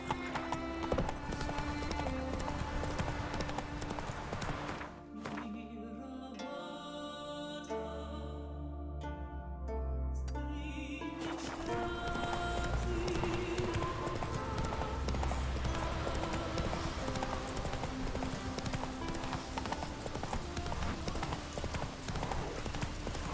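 Steady clip-clop of a horse's hooves at pace in The Witcher 3, continuous and loud through the whole stretch over a rushing wind-like bed, with a brief quieter patch and no voices.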